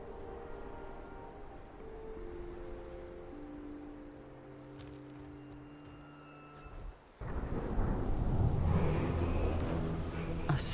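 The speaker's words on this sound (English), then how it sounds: "A storm." Thunder rumbles with steady rain in World of Warcraft, a low continuous roar that swells louder and denser partway through, with no one speaking.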